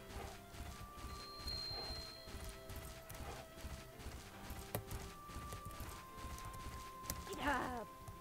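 Horse hooves clopping through water in the Bella Sara video game, a steady run of splashy footfalls with a whinny near the end, set against game music and ambient sound.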